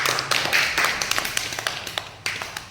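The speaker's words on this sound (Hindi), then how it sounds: "तालियां बजाओ।" A classroom of children claps hands together in an irregular, fairly close patter that fades toward a sparse finish, without talk over it.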